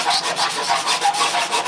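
Close, steady rasping of a hand file on a computer case part while a 386 DX 40 machine is rebuilt, with even repeated strokes of roughly equal length and no talking.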